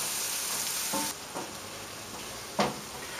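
Lightly sautéed vegetables seasoned with nutmeg hiss softly in a pan, a dense even sizzle that drops lower after the first second, with a few faint clicks of utensil contact.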